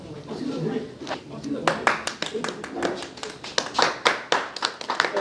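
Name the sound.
loud applause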